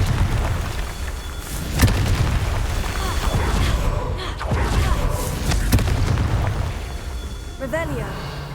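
A Confringo blasting curse goes off in Hogwarts Legacy as two sharp explosive cracks several seconds apart, over a steady rumbling game backdrop, with a voice speaking nearby.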